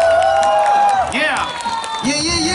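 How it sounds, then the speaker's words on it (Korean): Spectators at a 2018 national b-boy competition in Bucheon clap and cheer for a breakdance judge being introduced, with whoops and shouts rising over dense applause and a voice talking through it. "비보이 4K 박수 주세요"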